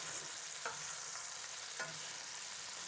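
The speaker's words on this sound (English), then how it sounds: "We just need to give it a nice searing." Fish searing in a pan for a mixed fish stew, a steady faint sizzle with a couple of soft stirring scrapes, heard close and alone without talk.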